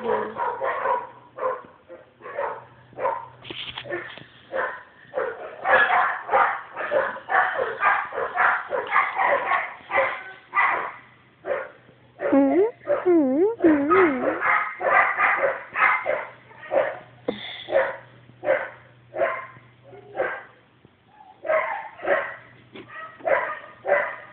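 A dog at an animal shelter barks repeatedly in quick, irregular bursts, with some higher yips and a brief whine, close by against a quiet background.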